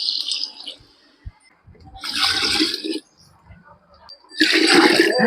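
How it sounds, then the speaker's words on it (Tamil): Water poured into a pot of quail biryani after yogurt has been added, heard as two splashing, gushing bursts separated by quieter kitchen sounds. "அளவு தண்ணி ஊற்றிக்கலாம் போ பிரியாணிக்கு."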